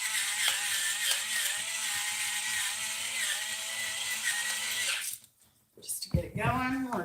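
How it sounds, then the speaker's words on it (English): A hand pepper grinder ratchets loudly and continuously for several seconds over a pot of walnut pomegranate chicken stew, then stops before a short stretch of speech. "I'm going in with some pepper, a grinder."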